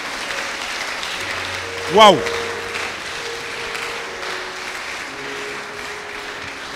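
A church congregation in Dakar applauding the Lord during a sermon, a broad sustained wash of clapping and cheering from a large crowd, with a shouted exclamation near the start.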